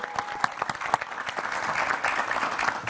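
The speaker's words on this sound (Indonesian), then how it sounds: "Tepuk tangannya lagi dong." Steady applause from a crowd, a dense patter of claps that holds at an even level throughout with no voices standing out.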